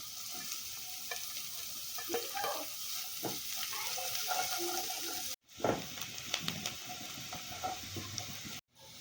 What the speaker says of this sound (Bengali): আমি এখন কুচি কুচি করে কাটা পেঁয়াজগুলো ঢেলে দিলাম